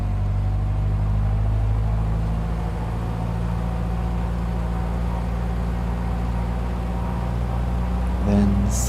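Steady low piston-engine drone of a light aircraft held at 1800 RPM during a pre-takeoff run-up with mixture full rich, in a flight simulator home cockpit; continuous and even throughout, with a short higher tone rising near the end.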